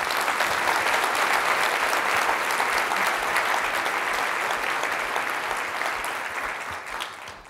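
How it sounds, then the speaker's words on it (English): An audience at a State of the University address claps for special guests from the campus and community, a full, steady round of applause that thins and fades near the end. "Let's give all of them a round of applause."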